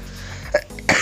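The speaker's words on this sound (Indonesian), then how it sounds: "Mohon maaf saya sedikit batuk" Two short, close coughs break through a steady background hum, the second one louder and a little longer.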